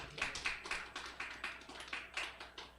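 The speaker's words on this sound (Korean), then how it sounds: "박수로 환영해 주십시오." Sparse, quiet clapping from a small church gathering at a family gospel camp, welcoming a married couple; roughly a dozen separate claps in an uneven rhythm, no voices.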